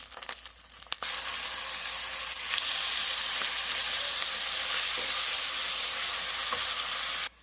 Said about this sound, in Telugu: ఇప్పుడు మనం టమాటో వేసుకుందాం.